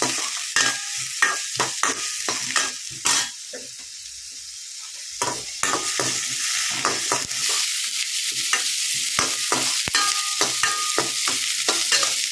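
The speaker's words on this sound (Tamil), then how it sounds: "ஸோ இதில் வந்துட்டு சின்ன வெங்காயத்தை சேர்த்து நல்லா வந்துட்டு வதக்கிக்கோங்க" Small onions (shallots) sautéing in a pan for goat lung gravy, with a steady loud sizzle and repeated scraping stirs of a spoon at an irregular rhythm.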